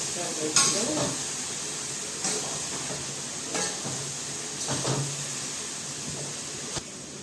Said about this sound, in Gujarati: કોબીનું શાક વઘાર કરી છે એમાં આપણે હળદર લાલ મરચી પાવડર મસાલો હવે નાખશું